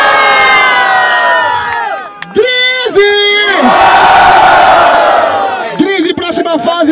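A crowd at a freestyle rap battle in Barueri cheers and whoops loudly and continuously, with shouted voices and a hyped name-chant rising over the dense roar.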